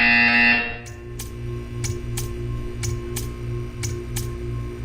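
In the video game Portal 2, a loud tone cuts off, then a steady electronic buzzer pulses in a regular rhythm, with short sharp clicks repeating about every half second.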